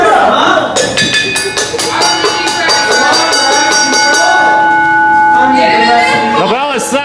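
A wrestling ring bell rung at the start of a hardcore match: a fast series of bright metallic strikes lasting a few seconds, over a noisy crowd and excited commentary.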